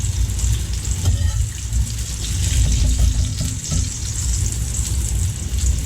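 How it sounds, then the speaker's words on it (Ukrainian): Mushrooms with onion frying in a pan for an eggplant and mushroom salad, giving a steady, fairly loud sizzle that continues without a break throughout. "Грибочки з цибулькою злегка підсмажилися"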